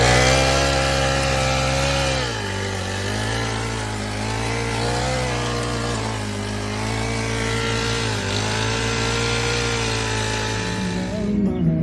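A petrol rototiller tills soil outdoors with a steady, loud engine drone and churning tines, its pitch dipping briefly as the load changes, running continuously with no talk.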